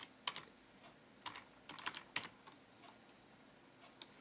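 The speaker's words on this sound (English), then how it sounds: "Just type in reboot." Keys clack on a computer keyboard as a short command is typed in, giving a few quiet, irregular clusters of taps separated by pauses.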